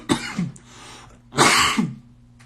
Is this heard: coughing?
yes